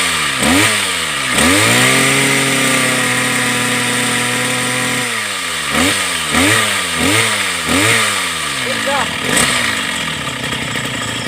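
A Mitsubishi TL43 brush cutter's small two-stroke engine, close and loud, revs up twice, holds a steady mid-speed drone, then settles into a run of quick repeated throttle blips before easing off.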